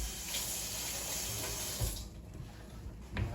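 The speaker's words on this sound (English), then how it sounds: "Gonna rinse this knife off real quick." A kitchen knife is rinsed under a running tap, a steady close stream of water with brief clunks and splashes as the blade moves through the flow.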